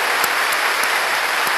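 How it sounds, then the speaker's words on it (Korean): Audience at an evening church conference service applauds for a pastor's wife being introduced, a steady, loud wash of clapping with no talk over it. "박수 해주세요."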